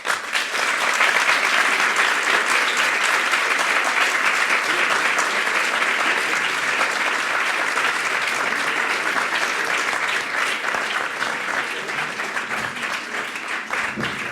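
Sustained audience applause for the finalists of a 2016 eloquence contest, a broad, steady roar of many clapping hands that stays strong for the whole stretch and eases slightly near the end.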